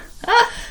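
A single short, sharp sneeze bursts out close by, with a quick breathy onset.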